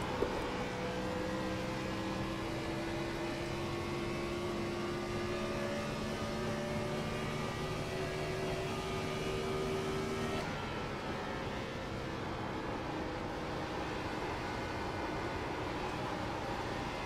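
A Gen 4 stock car in the iRacing sim roars at full throttle around Kentucky, its engine a steady droning whine with rising pitch that drops off abruptly near the end before carrying on lower.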